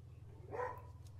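A dog barks at the neighbours, giving a single short bark or yip at middle distance over a steady low hum.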